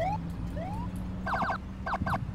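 An emergency vehicle siren in the game Flashpoint/FS:911: rising tonal sweeps give way to rapid warbling yelp bursts, moderately loud over a steady low hum, with no talk.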